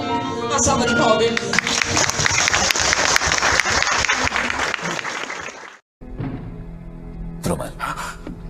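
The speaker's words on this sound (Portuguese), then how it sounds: "Uma salva de palmas." Dense, loud applause from an audience fills the first six seconds, then cuts off abruptly into quieter voices and background sound.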